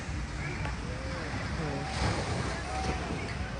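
Continuous surf and wind at the seaside make a broad, rumbling wash with low wind buffeting on the microphone, under faint voices in the distance.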